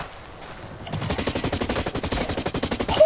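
Rapid automatic gunfire in the first-person shooter game Blacklight Retribution starts after a near-silent second and carries on as a fast, steady burst of shots through the rest of the clip.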